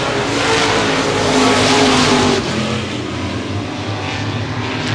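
Modified race cars roar past at Baer Field Speedway during a Gold Cup 50 feature, a loud, close engine drone that swells to a peak and then eases off to a steadier, more distant growl.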